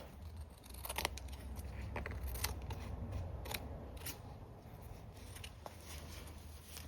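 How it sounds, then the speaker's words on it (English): Scissors trim excess paper from a mixed media cat card, making a series of close, crisp snips over a low background hum. "we can trim off some of this excess stuff"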